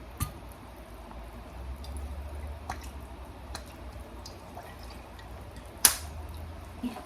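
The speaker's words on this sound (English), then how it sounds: "Now let's add fish sauce." Fish sauce poured into string beans cooking in a pan for a Filipino dish; faint, sparse drips and soft liquid splashes over a quiet background, with one sharp clink near the end.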